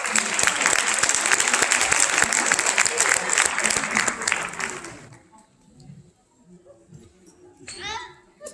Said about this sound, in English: Give them all a hand, a round of applause.